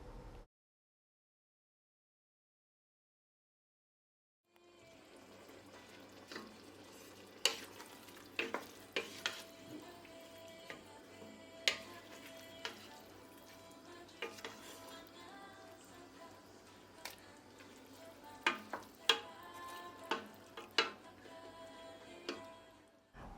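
Oven-roasted eggplant simmering in a salted pot, stirred with a utensil that clicks and scrapes against the pot in scattered sharp ticks over a low, quiet bubbling; a few seconds of silence come before it starts.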